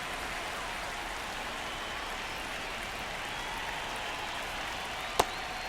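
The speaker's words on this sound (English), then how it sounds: "This rain is not letting up." Steady rain pours in the MLB The Show 26 baseball video game, an even, soft hiss throughout with one brief click near the end.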